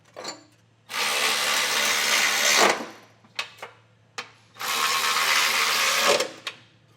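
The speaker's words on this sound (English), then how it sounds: "I'm going to notch this out just a little bit more." A power tool notches a Curt Class I trailer hitch bracket on a 2025 Toyota Camry in two long, loud cutting bursts, with short blips of the tool between and after them.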